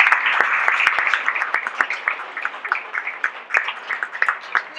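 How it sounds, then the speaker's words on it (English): A group applauds the bakery's employees with brisk, fairly close clapping that starts sharp and thins into scattered claps toward the end. "I just want to give a huge round of applause to all of our employees"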